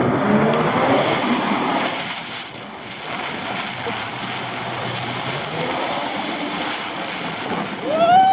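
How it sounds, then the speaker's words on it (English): A turbocharged engine running at moderate distance, producing a steady droning roar with a rising whistle at the end. "I love that sound. This thing's turbo."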